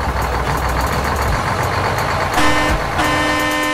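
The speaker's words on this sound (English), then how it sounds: "Who's driving that Paw Patroller?" A Paw Patroller truck from a Paw Patrol cartoon rolls up in a steady loud engine rumble, with a toot-like tonal note cutting in near the end.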